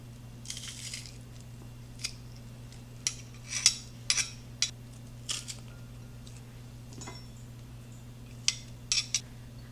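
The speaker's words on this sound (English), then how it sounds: "I'm going to mince 4 garlic cloves into our sauce here." Garlic cloves minced with a knife on a cutting board for a cowboy butter sauce: scattered short, sharp chopping clicks and taps, fairly faint, some in quick pairs, over a steady low hum, with no talking.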